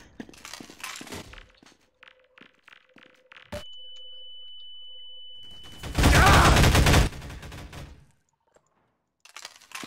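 Weapons fire in a Half-Life 2 Deathmatch game: a quick series of sharp shots, then a sustained electronic tone, followed by a loud roaring blast of sustained fire before everything drops to near silence.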